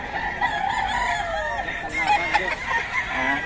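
Boston White fighting rooster crowing at a busy market, one drawn-out crow near and clear over a steady crowd murmur, with other fowl clucking in the background.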